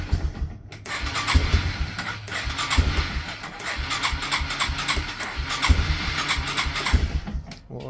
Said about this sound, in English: Well, it starts, but it don't want to stay running.